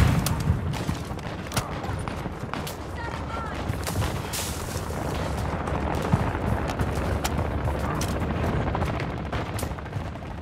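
Call of Duty: Modern Warfare II gunfire crackles in dense, rapid bursts of automatic shots and scattered single cracks with distant booms, continuing under radio voice callouts.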